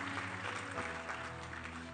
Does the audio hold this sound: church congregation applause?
yes